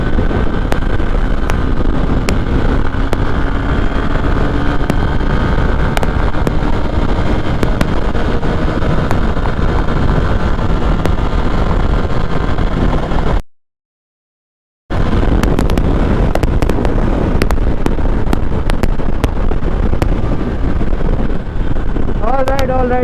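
A Hero Xpulse 200 4V Pro Rally Edition motorcycle from 2023 runs at high speed in fourth gear on a road, its steady engine drone buried in heavy wind roar, cutting out briefly midway, with someone talking over it.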